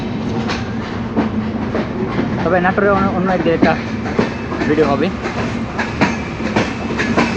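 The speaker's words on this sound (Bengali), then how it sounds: "এই ট্রেনটা আসছে, ছাড়লো, আর এখন ওই পাশে দাঁড়ানো ওই ট্রেনটা ছাড়বে রকেট মিল।" A passenger train departing Natore station rumbles steadily with rhythmic wheel clatter on the rails, loud and continuous, while someone talks over it.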